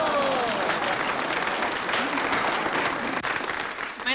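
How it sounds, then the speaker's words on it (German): Audience applause in an old German film scene, sustained, even clapping over a murmur of crowd with a voice briefly audible beneath it, tapering slightly toward the end. "dieser Applaus war etwas verfrüht"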